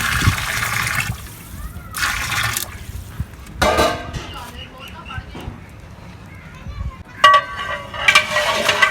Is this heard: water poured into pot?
yes